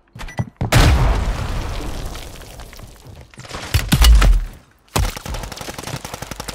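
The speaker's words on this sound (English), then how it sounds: "Hostile cluster mine detected." Cluster mine explosions in a video game: a series of heavy booms and crackling blasts, loud and close, in clustered bursts with rumbling low thuds.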